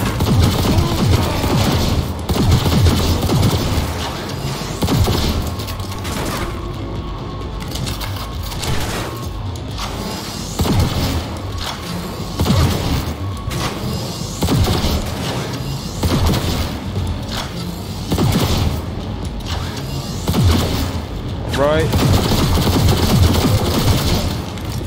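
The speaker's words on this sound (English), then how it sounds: "Shooting" Sustained gunfire from Cyberpunk 2077 on PC, bursts and booming shots running almost continuously and loud, with brief pauses and impact crashes between volleys.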